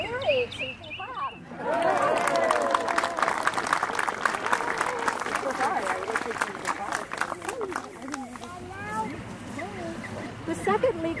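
Wedding guests at a ceremony break into sustained applause that rises after a quiet start and carries on steadily, with cheering and voices mixed into the crowd noise.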